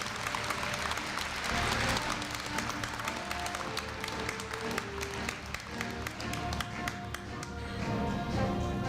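Audience applause at the 2015 Korea University freshman entrance ceremony in a large hall, sustained clapping from a big crowd, dense and steady throughout with a few sharper individual claps and a faint tonal hum beneath.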